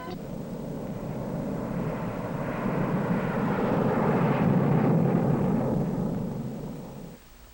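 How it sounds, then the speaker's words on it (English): Specially instrumented Air Force aircraft flying a nuclear weapons safety test mission, a broad steady engine roar that swells toward the middle and fades out near the end, heard alone without voices. "Specially instrumented aircraft fly the tests that verify what happens inside a weapon"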